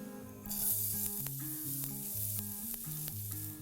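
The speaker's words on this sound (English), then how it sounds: "I'm gonna add the garlic in first." Garlic hitting hot, smoking oil in a pan, a steady close sizzle with background music playing throughout.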